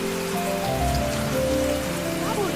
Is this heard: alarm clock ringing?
no